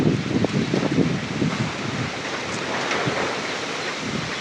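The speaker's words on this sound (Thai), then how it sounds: "ลมแห้งขนาดนี้นะ" Wind buffeting a microphone outdoors, loud rumbling gusts with rough low roar, strongest at the start then settling into steady rushing noise, no talk.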